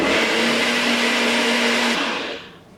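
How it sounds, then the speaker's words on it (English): A blender whirls protein pancake batter in one loud, steady motor run with a constant hum that cuts off near the end, leaving a brief fading tail. "Put it on the blender and give it a whirl."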